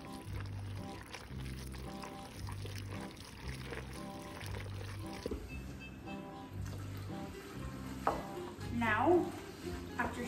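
A sweet noodle kugel mixture is stirred in a bowl, soft repeated scraping and wet mixing strokes at a steady rhythm, quiet and close, ending with a few sharper clinks and a brief pour.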